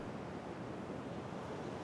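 Deep ocean waves wash in a steady, unbroken roar of broadband surf noise, soft and even throughout with no distinct breaks or voices.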